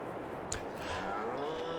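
Cattle on a Farming Simulator 22 farm, with a single drawn-out moo lasting most of the moment, heard fairly close against a steady background hum, no talking.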